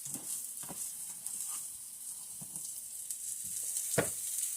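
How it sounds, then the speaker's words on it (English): Hot dog pieces and rice are stirred in a sizzling pan with the burner just switched off, giving a steady frying hiss broken by scattered scraping and clinking of the spoon. "I turned the burner off, and I'm going to get that stirred up one more time."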